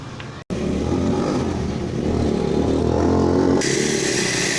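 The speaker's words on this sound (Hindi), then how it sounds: "जबकि इसकी मोटर की आपको ऑडियो भी सुनाई दे रही होगी।" A DC air cooler motor running on an old laptop power supply gives a steady loud whirring hum, broken by a brief dropout near the start and a brighter rushing change toward the end; no talk.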